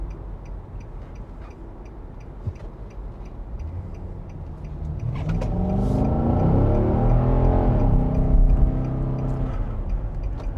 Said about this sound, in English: the sound of this V8, this quite old-fashioned V8,